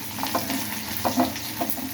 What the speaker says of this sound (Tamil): இந்த வெங்காயம் வந்து நல்லா வதங்கணும்.